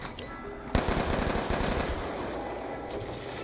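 An MTAR assault rifle in Black Ops 2 Zombies firing a sustained automatic burst, loud and close with fast, evenly spaced shots that run to the end.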